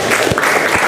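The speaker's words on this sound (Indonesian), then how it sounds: "beri tepuk tangan buat kita semua" A short burst of clapping from a group at an academic coaching and supervision training session, dense and fairly loud, with no voices over it.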